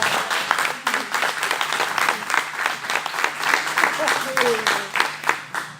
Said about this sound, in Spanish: Un aplauso para Roma.